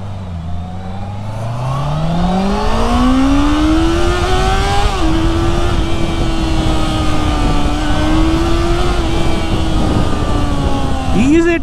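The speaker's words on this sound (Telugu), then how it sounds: "సో ప్రజెంట్ అయితే రివ్ మ్యాచింగ్ చేసి గేర్స్ డౌన్ చేయాల్సి వస్తుంది." A 2022 Honda CBR 650R motorcycle roars loudly and close as revs climb, briefly dip at a gear change, then hold a steady high pitch under constant wind rush.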